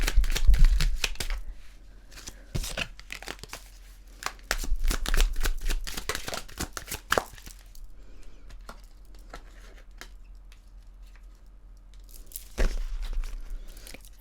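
Tarot cards are shuffled and drawn by hand, producing bursts of crisp riffling and rapid card slaps, then quieter stretches of soft handling and occasional single card snaps, close and alone with no talk.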